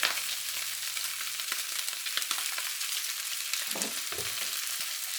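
Pork pieces for a curry frying in oil, a steady close sizzle and crackle running throughout with a few soft stirring knocks near the end, no voices.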